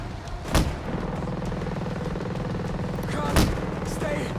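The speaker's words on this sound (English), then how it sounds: "Incoming sniper fire!" Two sharp, loud sniper shots crack out in Ghost Recon Breakpoint, spaced about three seconds apart over a steady engine-like rumble and battle noise.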